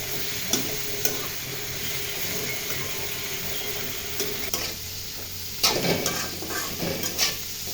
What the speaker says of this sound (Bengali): এখন এগুলোকে খুন্তা দিয়ে একটু নাড়াচাড়া করে ভাজা ভাজা করে চুলা থেকে নামিয়ে ফেলবে।